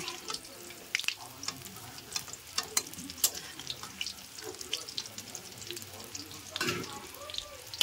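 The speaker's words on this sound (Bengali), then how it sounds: "বন্ধুরা, আমার কাতলা মাছের ডিমগুলো ভাজা হয়ে গেছে।" Katla fish roe frying in oil, a quiet close sizzle with scattered crackles and pops, plus scraping and clinks as pieces are lifted out, no talk over it.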